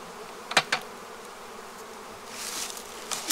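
Honeybees buzzing around the entrances of beehives during robbing, a steady close hum with a few sharp passes of bees near the microphone, no voices.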